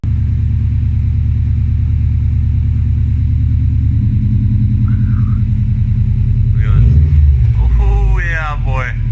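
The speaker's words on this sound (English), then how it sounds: "Oh, listen to that rumble." Deep, loud rumbling exhaust from a 2015 Subaru STI idling with its mufflers removed, a steady low throb throughout, with voices talking briefly over it near the end.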